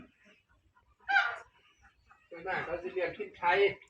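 Guinea fowl on a farm give harsh, honking calls, one short cry followed by a cluster of louder squawks close by, with a voice talking around them.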